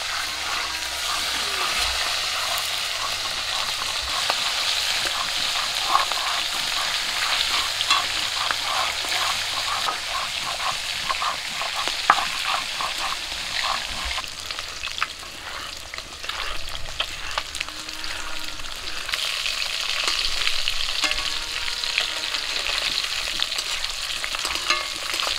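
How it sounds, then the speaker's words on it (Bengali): Steady, crackling sizzle of rui fish frying in hot oil in a pan, continuous and close, with faint stirring clatter and no talking. "মাছগুলো এক পিট করে ভাজা হয়ে গেছে"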